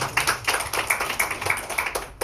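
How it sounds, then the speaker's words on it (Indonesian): A church congregation claps for Jesus during an Indonesian worship service, a steady group applause with sharp repeated hand strikes, fairly close and continuous throughout. "Tepuk tangan dulu untuk Tuhan Yesus."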